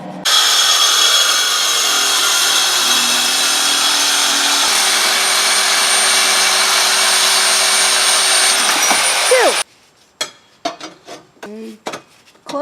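Power tool cutting a steel exhaust pipe for a Nissan 350Z catback, a loud, steady high-pitched grinding whine for about nine seconds, then stopping abruptly, followed by scattered clanks and handling noises.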